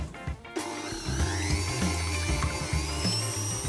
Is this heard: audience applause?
no